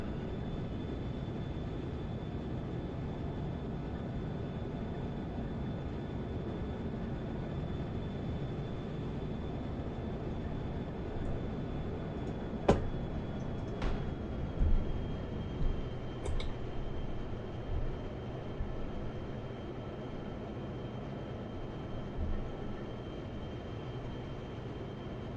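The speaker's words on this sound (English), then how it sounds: "I shouldn't really be trying to take off with this much weight under the aircraft" A heavily overloaded jet rolls for takeoff in the DCS flight simulator, a steady loud engine roar with a thin high whine held throughout and a few sharp clicks midway, with no voices.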